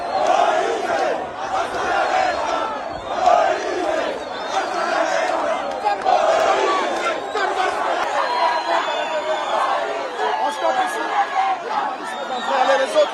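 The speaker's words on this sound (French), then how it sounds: "Une foule immense chantant et scandant son nom était venue l'accompagner." A huge crowd at a Congolese presidential election polling station chants and shouts a candidate's name, a dense roaring mass of voices with rhythmic surges and cheers, loud and sustained throughout.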